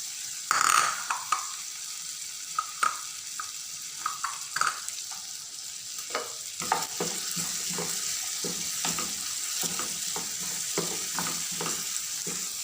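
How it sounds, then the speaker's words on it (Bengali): Chicken and potato pieces sizzle and crackle as they fry together in a pan, with sharp spoon-and-pan clatters from stirring cutting through a steady hiss. "আলুটা চিকেনটা একসাথে 3 থেকে 4 মিনিট হালকা একটু ভেজে নিব"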